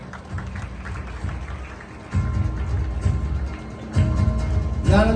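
Crowd applause at a Shiv Sena student felicitation ceremony in Titwala, a dense patter of clapping that swells louder partway through and continues to the end, with a voice briefly heard near the close.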